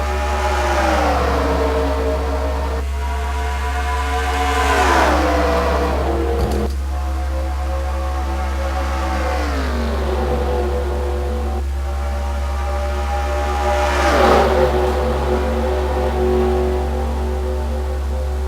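Stock cars racing at a superspeedway in a racing video game, several engine tones rising and falling in repeated sweeping passes over a steady low hum, loud and continuous.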